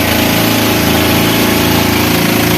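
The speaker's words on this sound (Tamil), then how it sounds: "2 மோட்ரு ஓடுது, இங்கிட்டு ஒரு மோட்ரு இங்கிட்டு ஒரு மோட்ரு" Two motors run together on a fishing boat grounded at sea off Pamban, a loud, steady, close engine drone with a low rhythmic pulse and no talk over it.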